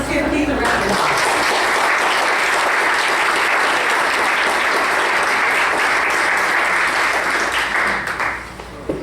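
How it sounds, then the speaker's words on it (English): A county fiscal court audience applauding a man named Keith, a dense, sustained round of clapping filling the room for several seconds before tapering off at the end. "Let's give Keith a round of applause."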